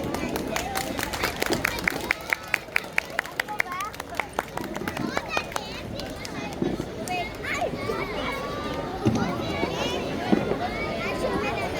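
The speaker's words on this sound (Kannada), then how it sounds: "ನಿಮ್ಮಿಂದ ಒಂದು ದೊಡ್ಡ ಚಪ್ಪಾಳೆ." An audience at a Rajyotsava cultural evening in an apartment community claps in scattered bursts amid crowd babble and children's voices, with a speaker talking over it.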